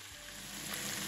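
Goat meat sizzles steadily in a hot pan while being stirred, a close, soft, continuous frying hiss with faint scraping.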